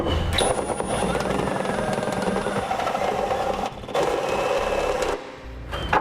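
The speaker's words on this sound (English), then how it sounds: "you can use a step drill bit like I'm going to. And we're just going to enlarge that hole" A power drill whines loudly and steadily as a step drill bit grinds through a 2015 Subaru's metal frame, enlarging a hole, with brief pauses in the cutting.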